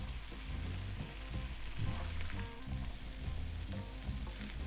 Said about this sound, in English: now, just need to add the rice in. And somehow mix this through without it falling out everywhere